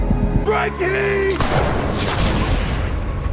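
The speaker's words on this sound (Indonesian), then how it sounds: "Frankie pun harus kena tembakan di kepalanya." A single loud, close gunshot in a crime thriller scene set around the Hotel Continental cracks out after a few tonal sounds, followed by a long, fading reverberant tail.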